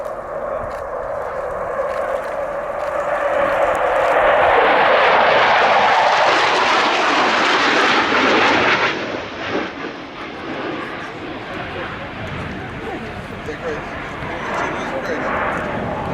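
A Cold War era jet fighter, a bomber destroyer, makes a pass at the Duxford Air Festival air show, its roar building to a loud peak, then fading into a rushing broadband wash, with a commentator talking over it.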